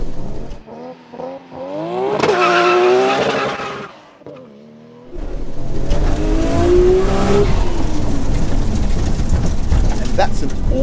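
A Nissan Skyline R34 GT-R with around 800 bhp launches and accelerates hard from a standstill, its engine rising through rapid gear changes with brief tire squeal, loud and close, while people talk over it.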